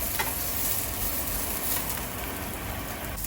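Shallots sautéing in hot oil with popped mustard seeds and curry leaves for a Kerala-style ulli theeyal, giving a steady, broad sizzle that holds evenly throughout with no voices.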